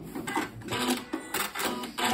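Janome Horizon Memory Craft 9480 QC Professional sewing machine stitching out a pattern, giving bursts of fast mechanical whirring and clatter that start and stop several times at close range, with no talk.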